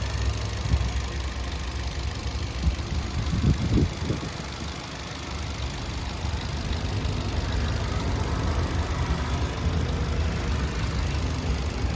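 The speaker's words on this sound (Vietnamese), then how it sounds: "Tiếng máy đổ rất là êm." A 2017 Hyundai i10 car engine idling smoothly, a steady low hum with faint vibration that holds evenly throughout and is heard close up with no talking.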